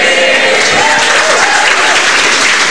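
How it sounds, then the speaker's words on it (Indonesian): Loud, steady applause from a stand-up comedy audience in Indonesia, dense and unbroken for a few seconds with no voices standing out. "Ngapain tepuk tangan?"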